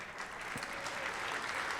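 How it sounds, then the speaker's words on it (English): Gala audience applauding a performer's mom and dad: a steady, even wash of clapping from a sizeable indoor crowd, moderately distant and sustained throughout, with no talking over it. "Applause for his mom and dad, by the way,"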